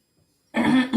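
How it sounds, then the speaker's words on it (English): A single close, harsh cough from someone getting over a cold bursts out after a moment of silence, followed by a quick second rasping push. "There may be a deal of hacking from me, like coughing."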